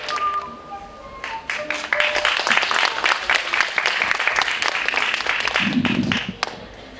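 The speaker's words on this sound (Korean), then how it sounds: "박수 부탁드리겠습니다." Audience applause at a youth forum held at Hopyeong Middle School, building quickly into dense, sustained clapping across the room and fading near the end, with a low murmur of voices underneath.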